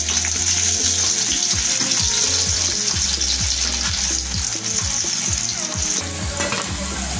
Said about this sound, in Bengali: গরম তেলের মধ্যে কাঁকরোলগুলো ছেড়ে দেবেন, দিয়ে ভালো করে ভেজে নেবেন।